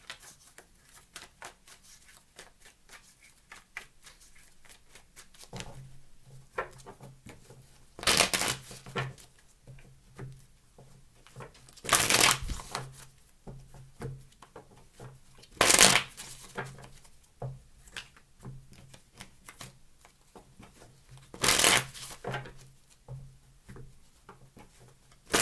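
Repeated crisp riffling bursts of tarot cards being shuffled, several distinct loud shuffles spaced a few seconds apart, with soft handling noises between.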